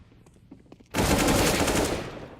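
Sustained burst of AK-47 automatic rifle fire in a Counter-Strike match, loud and dense, erupting abruptly after quieter in-game sounds and continuing for over a second before easing slightly.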